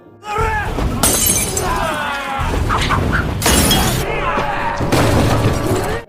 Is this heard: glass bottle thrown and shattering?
yes